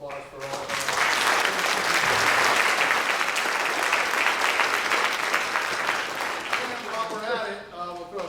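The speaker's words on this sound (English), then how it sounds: "how about a round of applause for all of them" Sustained applause from a crowd at a middle school band concert, steady and full for several seconds, with a voice speaking over it as the clapping fades near the end.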